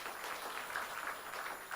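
A church congregation at a Sunday worship service claps briefly for a child's first thanksgiving offering, a soft, distant patter of applause.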